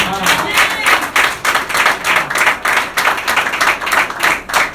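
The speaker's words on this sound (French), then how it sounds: "Acclamez-toi pour le Seigneur." A church congregation claps in a fast, steady rhythm, loud and close, with voices mixed into the clapping throughout.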